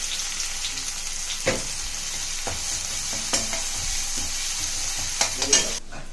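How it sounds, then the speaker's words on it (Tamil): Steady sizzle of onions frying in oil in a kadai, with occasional spoon scrapes and stirs against the pan, close and continuous. "இப்போ அதே கடாயில் எண்ணெய் ஊற்றிட்டு இந்த வெங்காயத்தை ஆட் பண்ணி நல்லா வதக்கிடுங்க"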